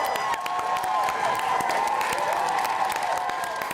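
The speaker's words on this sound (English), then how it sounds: "Give yourself a round of applause for this." An audience gives a round of applause, dense steady clapping filling the room at moderate loudness throughout, with a little crowd noise mixed in.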